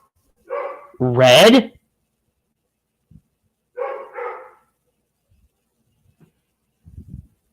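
A German Shepherd and Belgian Malinois mix dog barks indoors: a few short, close barks in separate bursts, with a speaking voice and quiet gaps between them.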